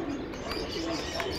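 Pigeons coo softly over a dense, steady background roar, with no talk, during a short moment of pigeon training.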